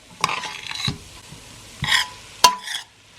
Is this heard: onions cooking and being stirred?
yes